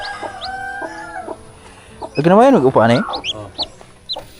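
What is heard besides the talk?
chickens clucking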